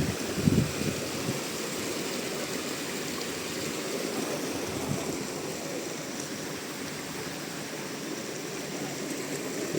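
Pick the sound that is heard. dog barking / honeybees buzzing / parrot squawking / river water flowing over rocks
river water flowing over rocks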